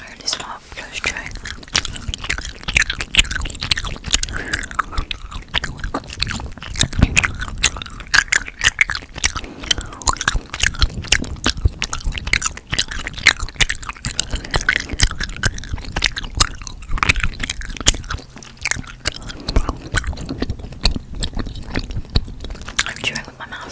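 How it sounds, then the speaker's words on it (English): Close, intimate mouth-shut chewing with soft wet crunches and squishes in a steady rhythm, mixed with faint whispery breaths right at the microphone, as in a mouth-sounds ASMR session. "I'm chewing with my mouth shut."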